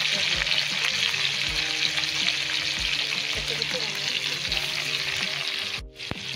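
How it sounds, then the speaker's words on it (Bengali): Onions fry in hot oil after bay leaves have been tempered, giving a steady close sizzle with faint periodic stirring knocks. A short scrape and clatter comes near the end. "তো তেল আমাদের গরম হয়ে গেছে গাইস, আর এখন প্রথমে দিয়ে দেবো তোমার পেঁয়াজ।"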